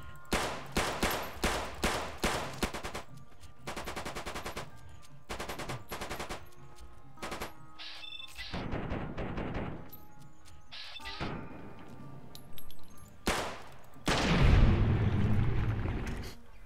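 Mauser C96 pistol shots in Fallout New Vegas crack out in quick, sharp strings of repeated single shots with short pauses between bursts, loud and close. A heavier crashing impact comes near the end.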